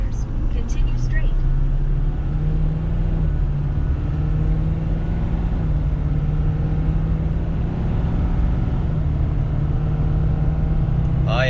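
A 2021 Ford F450 pickup truck pulls onto a highway, its turbocharged engine giving a loud, constant low rumble with road noise, heard from inside the cab without talk.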